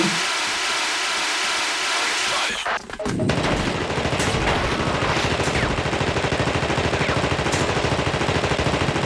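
Sustained rapid gunfire is aimed at a turret in the video game The Thing: Remastered: after a short lull, a loud, dense stream of automatic shots with mechanical clatter runs without pause to the end.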